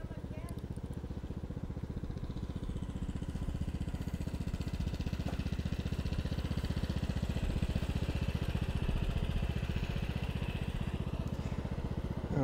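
A child drives a ride-on lawn mower across a lawn, its engine giving a steady, continuous mid-pitched drone that holds without pause for the whole stretch.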